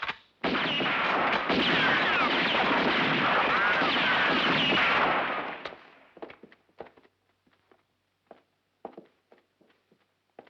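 Sustained, dense burst of gunfire in a Western film shootout, a continuous roar of shots for about five seconds that then cuts off, followed by scattered scuffs and footsteps.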